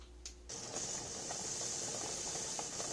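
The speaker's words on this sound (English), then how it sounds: "You sure hear this thing boiling on the inside" A steady, hissing bubbling of water boiling inside a closed pressure canner begins abruptly and continues evenly, fairly quiet, with faint rattling under it.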